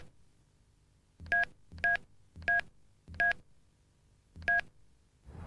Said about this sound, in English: Enter your lock code and press OK to lock the phone.